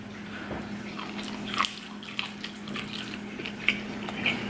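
Octopus tentacles are chewed close to the mic, with soft, wet squishing and occasional sharp bites and smacks over a faint steady hum.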